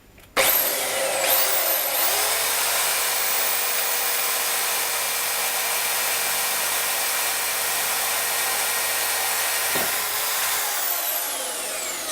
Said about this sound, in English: just going to drill the holes quick